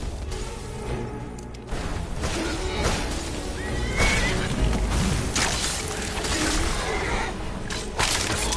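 A horse whinnies amid busy Skyrim: Dawnguard game sounds, with whooshes and clatter layered throughout a loud, dense mix.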